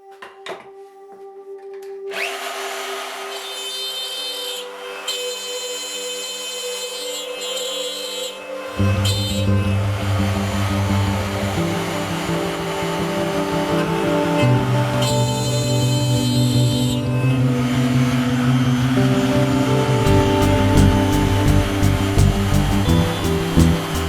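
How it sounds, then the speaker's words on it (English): A router cuts spline slots into the body of a Rickenbacker 620/12 guitar build. A motor whine rises, then a louder, sustained cutting roar and whirring hold close by for most of the stretch, with no talking. "we can just run the router again, ensuring that we're working from the back face, route those slots in"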